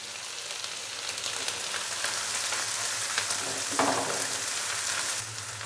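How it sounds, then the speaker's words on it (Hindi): Ginger and garlic paste frying in a pan, giving a steady, close sizzle with faint stirring scrapes and a slight surge near the end, no talking over it. "तो अदरक और लहसुन के पेस्ट को हल्का सा फ्राई करेंगे पहले ताकि इसका कच्चापन ख़त्म हो जाए"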